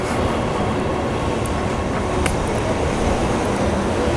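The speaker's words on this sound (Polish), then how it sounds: "idziemy to zobaczyć. Właśnie nadjeżdża." A metro train pulls into a station of an expensive, modern metro system, its broad, steady rumble and rolling noise filling the space, with faint high squeals from the wheels and no talk.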